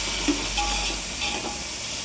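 A tomato and green chili mixture is stirred in a pan for a biryani, with soft scraping and a steady sizzle running through the short stretch and a few light knocks.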